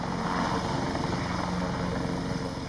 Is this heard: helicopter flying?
yes